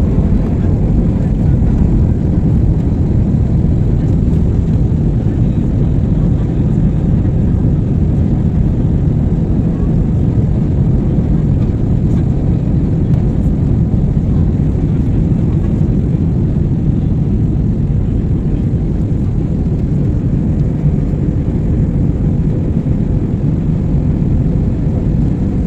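Airplane cabin noise in flight: a loud, steady, unbroken engine and air drone that holds constant throughout with no breaks.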